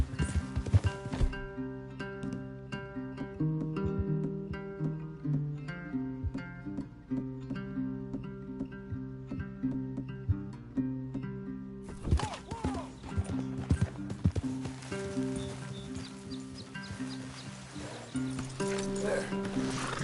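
Horses in Red Dead Redemption II clip-clop steadily with rhythmic hoofbeats under game music, with snorts, while characters talk.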